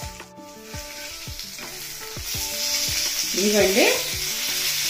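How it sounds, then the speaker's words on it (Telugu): Korramenu (murrel fish) frying in oil in a pan, with a steady, close sizzle and crackle. Utensils clink and turn the pieces, some music plays underneath, and a voice speaks briefly. "ఫ్రై అయ్యేదాకా ఈ విధంగా టర్న్ చేసుకుంటూ వేపుకుందాం"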